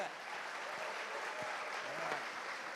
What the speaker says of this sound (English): Let's give them a round of applause to Dar es Salaam.